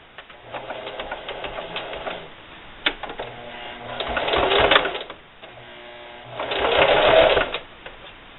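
A sewing machine runs a straight stitch with an eighth-inch seam through fabric, in three separate bursts of rapid mechanical whirring, each rising and falling, with brief clicks and pauses between them.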